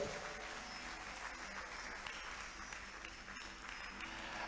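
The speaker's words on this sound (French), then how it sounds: "Let us clap for the Lord." A church congregation claps together for the Lord during a bilingual French and English service, producing a steady, dense wash of applause that carries evenly through the whole stretch at moderate loudness.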